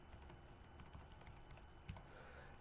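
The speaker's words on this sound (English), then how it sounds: "Let's go ahead and type in my name." Keystrokes on a computer keyboard while typing a name into a TriCaster 850 title template, a soft, irregular run of light clicks at close range with no talk.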